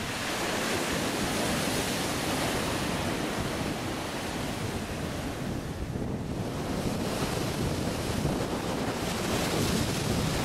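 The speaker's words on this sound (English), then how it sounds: "the breeze was kicking up a few waves to add to the scene" Waves breaking on the beach at Alum Bay at high tide on a cold, breezy February day, a continuous loud surf wash mixed with gusty wind buffeting the microphone, no voices.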